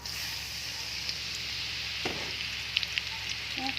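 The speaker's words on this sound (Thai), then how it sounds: "ก็ เอาตะไคร้มาเจียวต่อนะคะ" Lemongrass fries in oil already used for frying shallots, giving a steady, close hiss and sizzle throughout, with a few light stirring clicks and no talking.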